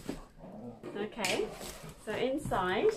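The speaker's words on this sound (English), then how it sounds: "you can hear my dog barking" A dog barks and yelps a few times nearby, mixed with a person talking and some clattering in the foreground.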